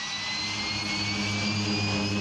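Steady, loud turboprop drone from a Twin Otter and Pilatus aircraft carrying skydivers, a continuous engine roar with a faint high whine and no talk.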